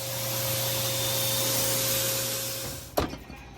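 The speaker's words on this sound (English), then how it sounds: "we can go and powder coat this thing now" A powder coating spray gun applies black powder coat to a metal brace for a 1950 Fargo truck build, a steady broad hiss with a faint tonal hum that cuts off abruptly, followed by a clunk.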